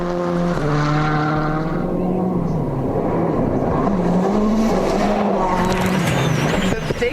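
A 2006 rally car, driven by Loeb, races flat out through a road compression on a WRC Mexico stage, its loud engine revving and shifting continuously close by while a commentator talks over it.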